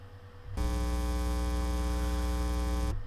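Mains hum preset from the noise section of the Massive software synth, a steady buzzing AC power drone with stacked harmonics that starts abruptly, holds at an even level for over two seconds, then cuts off.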